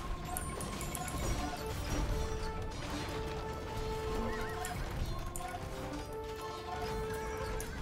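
Horse archers riding in Age of Empires II: Definitive Edition, with horses neighing and whinnying over a steady clatter of hooves, dense and continuous throughout amid game battle noise.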